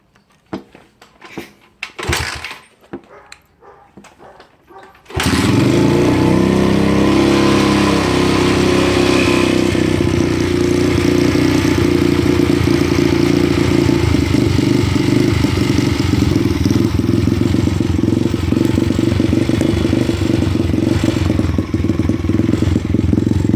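A dirt bike engine being customized, with carburetor adjustments, starts after a few seconds of scattered handling noises, then roars loudly and steadily close by with slight rises in revving.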